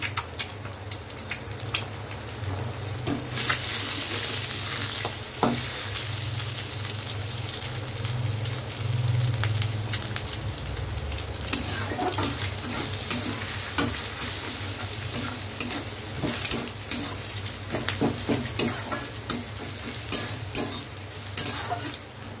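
An egg beaten with salt sizzles and is stirred in a hot pan for a pasta dish, a steady close frying crackle with repeated scraping strokes throughout and no voices.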